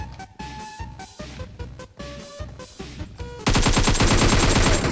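Gunfire in the mobile battle royale game PUBG Mobile: a run of separate sharp shots with short gaps between them, then a dense, loud burst of rapid automatic fire that continues to the end.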